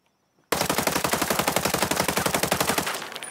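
Automatic gunfire in Ghost Recon Breakpoint, a single sustained burst of rapid, evenly spaced loud shots lasting over two seconds after brief silence, then a trailing echo, no talk.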